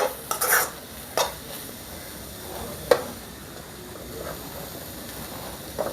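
Rice is tipped into a pan and stir-fried for fried rice: a faint hiss under sharp scraping and clinking of the utensil against the pan, with a few louder knocks, close and quiet.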